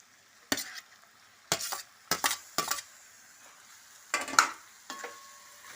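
Potato mixture tipped into a pan of aloo palli curry and stirred, giving a series of short scraping and sizzling bursts with light clinks, separated by brief quiet gaps.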